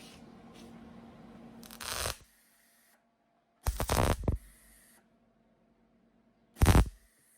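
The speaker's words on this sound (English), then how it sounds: "now we're going to weld it on this side to make sure it's super strong" Welding on the fender flange of a 1968 VW Beetle gives three separate bursts of harsh, crackling hiss, each lasting about half a second to a second, with near silence between them.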